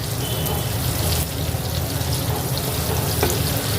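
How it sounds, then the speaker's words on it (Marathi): Half of a 100 g block of Amul butter melts in a pan for butter chicken, a loud continuous sizzle and bubbling hiss that holds steady at close range. "बटर 100 ग्राम जे बटर आपलं अमूल बटर आहे त्यातला अर्धा भाग हा मी वितळवून घेत आहे।"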